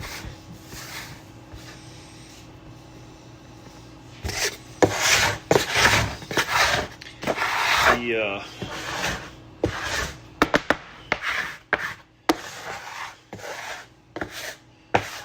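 A scraper working pasta dough on a wooden surface, giving loud, repeated rubbing and rasping strokes that come in bursts, starting quietly and growing busier, close up.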